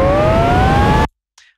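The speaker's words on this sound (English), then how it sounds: "This is actually the jet engine." A jet engine startup used as a sound effect, a loud, dense roar with rising whining tones that cuts off abruptly, followed by a brief faint hiss.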